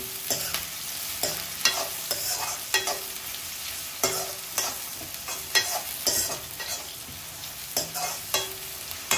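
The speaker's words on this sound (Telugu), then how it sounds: "ఉల్లిపాయలు కలర్ మారే వరకు అయితే వేపుకుందాం అన్నమాట" Onions frying in a pan while being stirred, a steady close sizzle broken by a regular series of scraping stirs throughout, with no talking.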